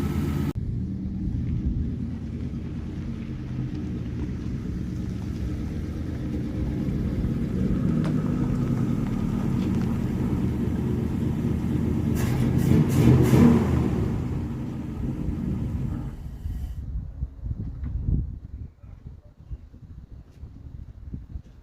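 A 1963 Studebaker Champ pickup engine runs steadily with a low rumble, swelling slightly around the middle before dropping away to quiet near the end.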